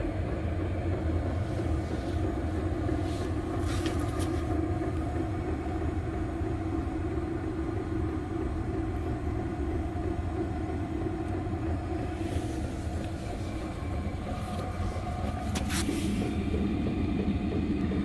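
A modified Chinese diesel parking heater runs at level 4, a steady low rumbling hum with faint tonal whine, joined by a few brief clicks and knocks near the end.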